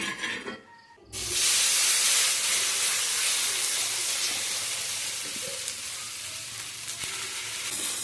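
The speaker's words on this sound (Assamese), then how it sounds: "টাৱাখন গৰম হৈছে, ইয়াতে মই তেল দি দিছোঁ।" Oats chilla batter hits hot oil on a tawa and bursts into a loud, steady, close sizzle that continues with a faint hiss after a brief quiet moment at the start.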